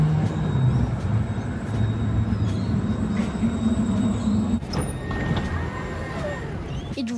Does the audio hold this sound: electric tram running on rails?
yes